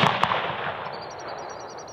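A single sharp report opens the moment as a hunting rifle is fired while being sighted in, followed by a quickly fading rumble and a faint high ringing tail.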